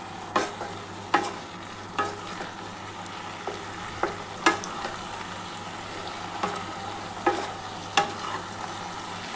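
Water spinach (kolmi shak) frying in a pan keeps up a steady sizzle, while a utensil stirring it scrapes and clinks against the pan at fairly regular intervals, close by and with no voices.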